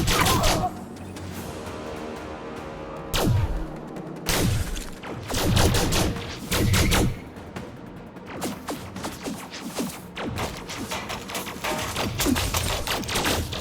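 In the Elite Dangerous Odyssey on-foot mode, sharp gunshots ring out in scattered bursts. Irregular loud cracks and impacts fall among quieter stretches of game ambience.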